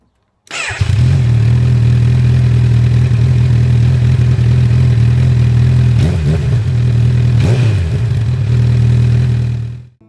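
A 2022 Honda CB1000R motorcycle rated at 143 horsepower fires up and settles into a loud, steady engine note close by, with two sharp revs blipping through near the end before it cuts off.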